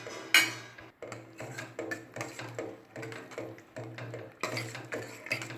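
A spoon scrapes and knocks around a pot as sambar ingredients are stirred together. The metallic scraping comes close and repeats in a steady rhythm of strokes, roughly one or two each second, with no talking.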